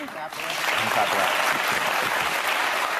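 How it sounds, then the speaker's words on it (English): The studio audience of The View bursts into applause, a dense, sustained clatter of many hands clapping that rises quickly and holds steady at close range. "our audience is clapping for him"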